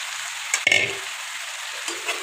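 Potato pieces go into a pan of frying chicken curry with one sharp clatter and a burst of sizzle, followed by a soft scrape of stirring over a low, steady hiss.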